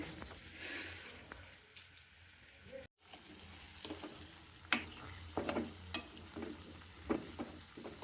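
An onion sizzles in a pan in a home kitchen at lunchtime, where it is getting burnt. The sizzle is faint and steady, with a brief gap and then scattered clinks and scrapes of a utensil against the pan.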